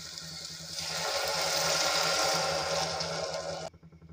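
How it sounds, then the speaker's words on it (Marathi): A glass of water is poured into a pan of cooked, oily sprouted moth beans for misal, giving a steady, close rushing splash that swells for about three seconds and then stops abruptly, leaving faint low background hum. "आता ह्यामध्ये आपल्याला घालायचं आहे 1 ग्लास पाणी"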